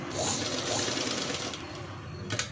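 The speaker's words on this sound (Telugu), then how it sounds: "ఇప్పుడు ఈ సైడ్స్ కూడా నెక్ని స్టిచ్ చేసుకోవాలి." A sewing machine runs steadily while stitching the sides of a blouse neckline, giving a fast, close mechanical whir with rapid needle chatter that continues through the short stretch at moderate level.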